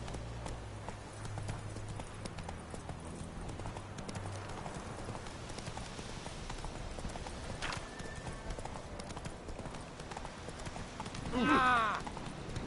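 Roach, a horse in the Witcher 3 game, gallops with a rapid, continuous clip-clop of hooves at moderate volume, and a short whinny rises near the end.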